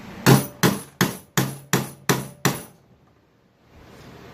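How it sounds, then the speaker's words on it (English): A metal punch struck with a hammer or mallet to mark a drilling spot while building a top case for a 2018 Royal Enfield Himalayan motorcycle, giving seven sharp, close, evenly spaced metallic blows followed by quiet. "use a metal punch and a hammer or a mallet to mark where you're going to be drilling"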